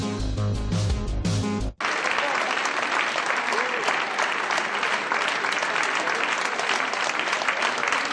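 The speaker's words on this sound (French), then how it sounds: "Des applaudissements pour une première séance du Conseil de la Métropole pour Gérard Collomb" After a brief music sting cuts off, sustained applause rises from a metropolitan council chamber at Gérard Collomb's first session, many hands clapping steadily and evenly throughout.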